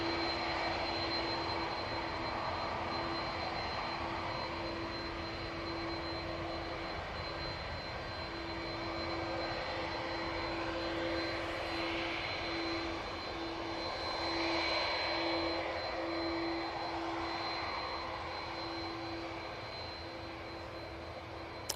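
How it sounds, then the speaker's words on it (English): An EasyJet airliner touching down at Manchester Airport, its jet engines giving a steady, fairly distant roar with a faint whine that holds for the whole stretch, with no talk over it. "There is an EasyJet about to touch down."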